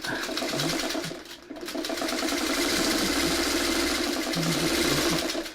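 Sewing machine running steadily while stitching fabric on a mini quilt block, a continuous rapid mechanical whir with a brief pause near the start, loud and close, no talk.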